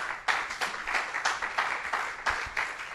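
A church congregation claps during a sermon, a series of rhythmic bursts of applause in a roomy space, fairly close and loud.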